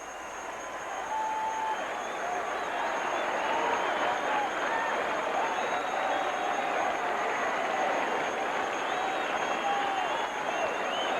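A tennis crowd at the 1982 Industry Hills final between Jimmy Connors and Bjorn Borg rises to its feet, cheering and applauding in a loud, continuous roar that swells in and holds steady.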